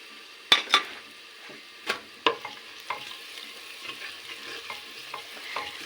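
A spoon stirs spices through frying potato and eggplant in a village-style pot, with several sharp scraping knocks against the metal early on and softer ones later over a steady low sizzle.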